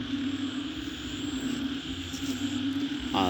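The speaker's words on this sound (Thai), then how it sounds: "เสียงอึ่งอ่างคืนนี้ร้องนั้งคืนเลยนะครับ" Narrow-mouthed toads croaking at night in a continuous, droning chorus that sits steady and moderately loud with no voices.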